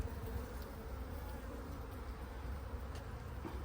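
A soft, steady buzz from honeybees swarming around a freshly opened beehive, with a constant low drone and no voices.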